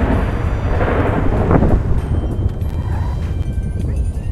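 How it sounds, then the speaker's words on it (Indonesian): Thunderstorm with heavy rain in the video game GTA 5: a steady roar of downpour with a loud rolling thunder crack near the middle, continuing without voices. "ke thunder, hujan lebat"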